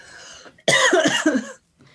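A single close, harsh cough burst lasting about a second, following a brief stretch of voice and then trailing into quiet.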